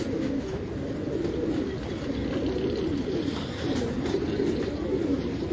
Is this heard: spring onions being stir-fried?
no